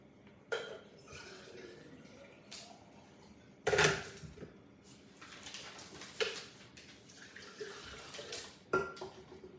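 Water poured and splashing into a kitchen vessel while tea is being prepared, with clinks of pots and utensils and several louder splashes in between, close and fairly quiet.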